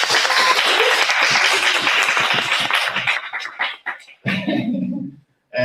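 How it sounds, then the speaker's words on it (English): An audience at a symposium session applauding, a loud, dense burst of clapping from many hands that thins out to a few scattered claps before stopping. "you can applaud"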